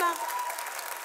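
At an African stand-up comedy festival, a crowd claps briefly and evenly. A voice is heard just at the start, and the applause stays moderately loud throughout the short burst.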